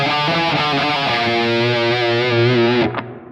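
A heavily distorted electric guitar riff confined to the Phrygian dominant scale, churning low palm-driven notes with a brief break near the end, played alone and loud.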